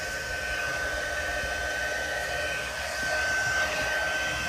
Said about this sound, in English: I'm going to heat up my heat tool on the high setting